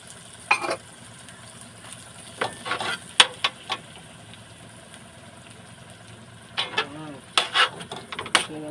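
Butter melts in a pan for creamy carbonara with a quiet, low sizzle, broken by scattered clinks and scrapes of a utensil stirring against the pan.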